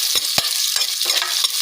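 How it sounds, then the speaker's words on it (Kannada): Onions frying and being stirred in a pan for palak pulao, with a steady close sizzle broken by a few quick spatula scrapes. "ಈಗ 4 ಈರುಳ್ಳಿ ಹಾಕ್ಕೊತಾ ಇದ್ದೀನಿ ಫ್ರೆಂಡ್ಸ್. ಚೆನ್ನಾಗಿ ಫ್ರೈ ಆಗಬೇಕು"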